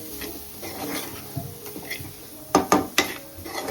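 Salt being sautéed in a pan with a spoon scraping and clinking against the metal, several sharp taps toward the end over a steady background hiss.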